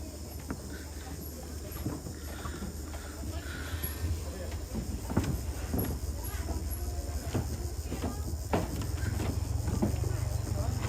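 Hooves clip-clop unevenly from a white horse at a Toraja funeral gathering, moderately close, with crows cawing and people talking in the background.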